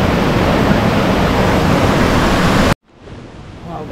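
Rushing water at Bayad Waterfall in Bali makes a loud, close, dense roar that holds steady, then cuts off abruptly near the end and leaves only a faint, low background hiss.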